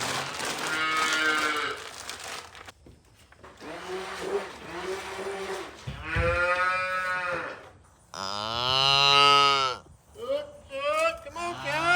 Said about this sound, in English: As you hear, the cows are quite hungry.